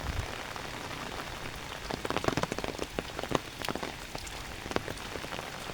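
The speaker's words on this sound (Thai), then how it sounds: "ฝนตกเนาะฝนตกหนัก" Heavy rain pours down steadily over rice fields, with a dense hiss of drops drumming on a surface and sharper close splashes scattered through the middle.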